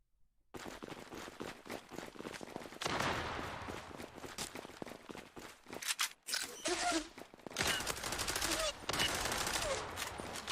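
Gunfire in the online shooter Zula, with rapid bursts and volleys of shots that come close and loud in uneven clusters. Voices may be present underneath.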